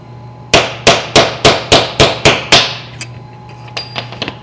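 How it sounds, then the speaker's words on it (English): Eight sharp, evenly spaced metal strikes of a hammer on a punch, driving a bushing out of a 2019 Toyota RAV4 Hybrid flywheel clutch shock-load dampener, followed by a few lighter taps and clinks. "Let's get our hammer."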